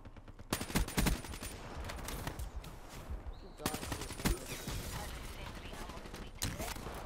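Rapid automatic gunfire from a KN-44 assault rifle on the Nuketown map in Black Ops 3, dense close bursts and sharp repeated shots over game noise, with a player talking at times.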